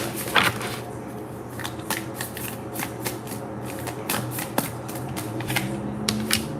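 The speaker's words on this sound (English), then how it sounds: "Do one more shuffle." Tarot cards are shuffled by hand, close and crisp, in a quick run of riffling, snapping flicks, with occasional sharper slaps over a quiet room.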